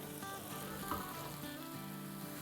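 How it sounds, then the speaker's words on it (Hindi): Marinated baby bella mushrooms fry in a pan on medium-low heat, giving a soft steady sizzle with faint stirring movements, quiet and without talk. "और अब इनको अच्छे से मिला लेंगे।"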